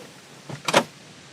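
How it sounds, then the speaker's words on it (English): A car's soft-closing sliding door pulls itself shut and latches, giving a short soft whir followed by a firmer mechanical clunk, close by in a quiet setting. "Soft closing sliding door, so if you don't manage to close it fully, it'll latch itself."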